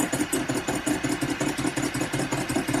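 A kitchen mixer beats sugar into meringue mixture, giving a close, continuous motorized whirring that pulses in a quick, even rhythm, heard alone.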